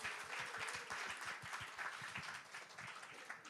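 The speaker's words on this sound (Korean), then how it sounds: "들어갈 때까지 박수 주십시오." Scattered applause from a small church congregation at a Sunday service, quick sharp claps with a steady patter that thins out, over a faint roomy background.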